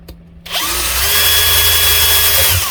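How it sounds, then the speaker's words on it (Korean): After a short quiet pause, a power drill whirs up and runs steadily at high speed drilling a hole, loud and close, for a couple of seconds. "좀 잘 붙어 있을 수 있게 이쪽에 구멍을 좀 뚫어 줄게요"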